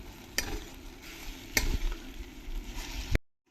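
Mango pieces sautéing in ghee over a medium gas flame give a soft, low sizzle, broken by a few sharp clacks of a spatula against the pan.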